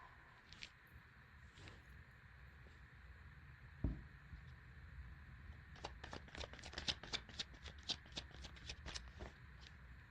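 Tarot cards are shuffled by hand in a quiet room: a few soft riffles and a single thump early on, then a rapid run of crisp riffling bursts near the end.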